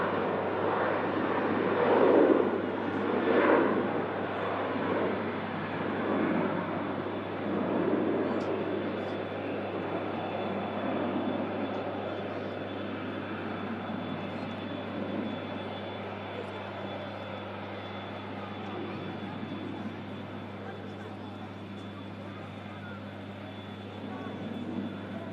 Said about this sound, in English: we just bring you TUI 73 on departure to the Canary Islands down to Tenerife South